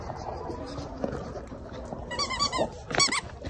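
A puppy yips and squeaks in short high bursts near the end, over a low steady rumble of background noise, fairly close and moderately loud.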